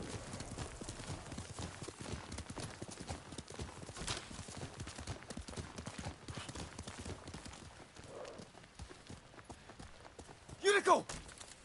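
Horse hooves clip-clop steadily in Ghost of Tsushima, a moderately loud rhythmic trot running throughout alongside a brief whinny near the end.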